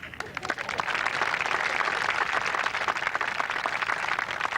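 A room full of guests at a retirement celebration claps steadily and continuously, a dense, moderately distant applause with no pause.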